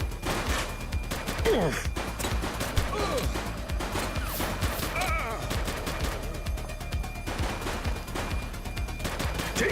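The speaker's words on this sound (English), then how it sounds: "He's shooting!" Dense gunfire in The Precinct, a police video game: rapid bursts and volleys crackle almost nonstop, with shouted voices over the shooting.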